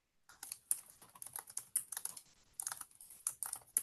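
Rapid typing on a computer keyboard, a dense run of close, crisp key clicks with brief pauses, heard alone without speech.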